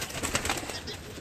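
Pigeons on a rooftop loft, among them a prized breeding bird numbered 41, cooing softly amid steady outdoor noise, with faint voices in the background.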